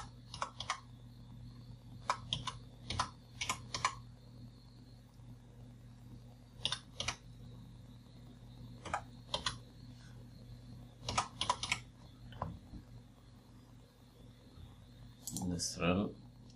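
Quiet clicks of typing on a computer keyboard come in short scattered bursts of a few keystrokes, with pauses in between, over a steady low fan hum while a person speaks.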